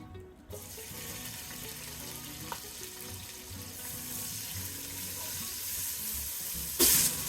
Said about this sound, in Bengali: আর পেঁয়াজ কুচিগুলোকে আমি হালকা বাদামি করে ভেজে নেব।